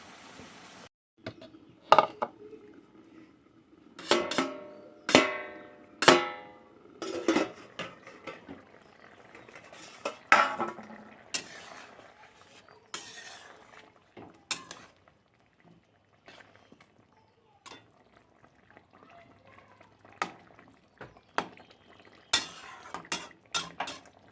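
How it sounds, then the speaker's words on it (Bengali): Softened onion and tomato mixture scraped from a pan into chicken cooking in a pot for chicken do pyaza, heard as sharp metal clanks and taps of a spoon against cookware with soft sizzling between, close and intermittent, no talking. "এবার এটা আমি মাংস যে রান্না হচ্ছে তার মধ্যে ঢেলে দেবো।"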